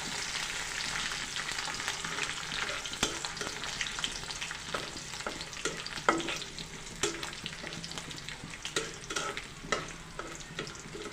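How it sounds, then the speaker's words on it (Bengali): Cloves, cardamom, bay leaf and dal sizzling in hot oil as they are stirred, a steady soft crackle broken by frequent clicks and scrapes of the spoon against the pan. "এগুলো আমি দিয়ে দিচ্ছি তেলের মধ্যে। একটু সামান্য নেড়ে চেড়ে নিব।"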